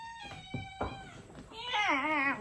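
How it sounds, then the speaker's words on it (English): A large pet cat meows several times nearby, a few short calls followed by a longer, wavering drawn-out meow, with faint room noise and no one speaking over it. "I'm getting distracted by the cat down here."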